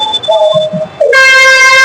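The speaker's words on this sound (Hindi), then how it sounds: "इसका हॉर्न बज रही है, आप लोग सुन ही सकते हैं।" A Bhopal Metro train at Subhash Nagar station sounds its horn in loud sustained tonal blasts, a shorter toot followed by a longer, brighter held blast.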